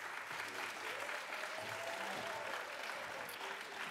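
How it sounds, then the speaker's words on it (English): A student election debate audience gives the candidates a final round of applause, even continuous clapping for about four seconds with faint voices underneath. "A final round of applause for all the VPS candidates then"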